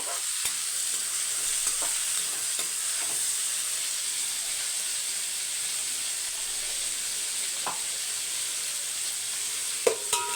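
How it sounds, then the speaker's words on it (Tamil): Onions and tomatoes sauté in oil in a pan for a chicken biryani meal, with a continuous bright sizzle and hiss and occasional clicks and scrapes of a spoon stirring. "வெங்காயம் பாருங்கள் நல்லா பாதி வதங்கிடுச்சு தக்காளி சேர்த்துக்கலாம் ஒரு மூணு தக்காளி"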